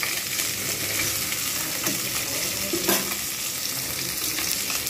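Pona (rohu) fish pieces fry with black cumin in a hot pan, giving a dense, even sizzle. A few sharp knocks and scrapes from stirring stand out against it, with no voices.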